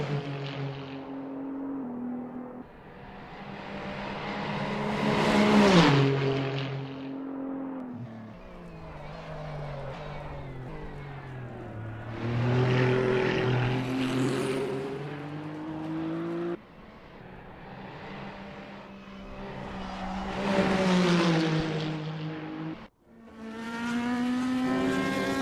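BMW M Hybrid V8 LMDh race cars at Road America in Assetto Corsa scream past in repeated swelling and fading passes, engines rising in pitch through gear changes, fairly loud.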